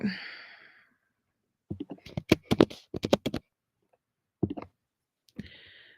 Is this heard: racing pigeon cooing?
no